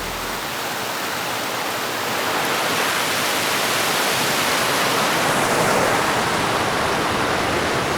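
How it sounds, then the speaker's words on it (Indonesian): A river flows steadily beside a lakeside campsite, a dense, loud rushing wash of water that swells slightly and continues unbroken with no talk. "kalian juga bisa dengar ambience suara sungai ini"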